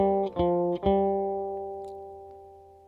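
A guitar plays a simple beginner melody: two quick plucked notes, then a long sustained note ringing and gradually fading, heard close and alone at moderate volume.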